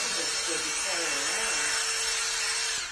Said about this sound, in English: That's a nice little hair dryer.